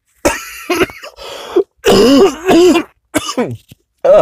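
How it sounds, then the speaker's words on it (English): Several harsh coughs and throat-clearing bursts in quick succession, close and loud, separated by short silences. "Sorry for coughing."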